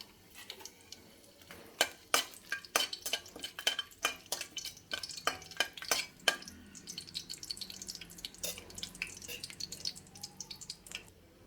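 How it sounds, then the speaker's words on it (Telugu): Dried red chillies for a talimpu tempering crackle and spit in hot oil, a quiet run of irregular sharp pops and sputters that thins out towards the end, with no talking. "Oil heat ఎక్కిందండి. ఇప్పుడు తాలింపు మిరపకాయలు వేసుకుందాం."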